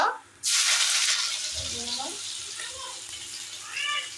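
Cumin seeds and a few dried red chilies hit hot oil, setting off a sudden loud, bright sizzle that holds steady for several seconds, with a faint voice murmuring underneath.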